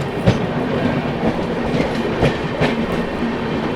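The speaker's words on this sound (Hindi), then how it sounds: "सामने से जो है अमृतसर से चलकर हुजूर साहिब नांदेड़ की ओर जाने वाली सचखंड एक्सप्रेस अराइव कर रही है बीना जंक्शन" The Sachkhand Express, running from Amritsar toward Hazur Sahib Nanded, rolls into Bina Junction with a steady rhythmic clickety-clack of wheels over rail joints, close and fairly loud, with no voices.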